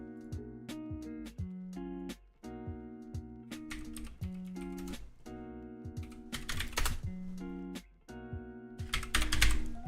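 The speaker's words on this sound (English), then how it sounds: "Don't mind the keyboard ASMR." Rapid clicking keystrokes on a computer keyboard, close and crisp in uneven bursts over a steady layer of background music tones.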